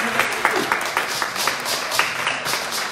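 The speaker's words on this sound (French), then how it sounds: "Est-ce qu'on peut acclamer Jésus?" A church congregation applauds in worship, a dense, continuous wash of many hands clapping at steady volume throughout, with a few sharper claps standing out and faint voices mixed in.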